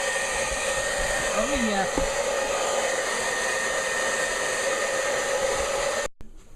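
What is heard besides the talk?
hair dryer blowing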